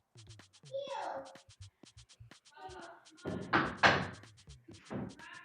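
Repeated sharp knocks in a room, a series of short dry taps in quick rhythm, sounding loud and close, mixed with people talking over them.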